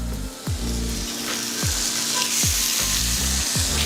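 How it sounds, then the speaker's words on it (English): Lamb chops sear in hot oil in a pan, giving a loud, steady sizzle and crackle that runs throughout, with a few soft thuds and clicks from handling. "put these in there and start searing them right now"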